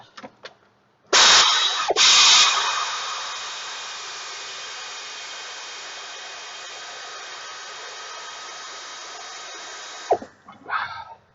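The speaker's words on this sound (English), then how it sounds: "I'm just going to use the air ratchet on this" An air ratchet works on a car in an automotive shop, giving two sharp bursts and then a long, steady pneumatic whir that runs for several seconds before cutting off, followed by a few faint clicks.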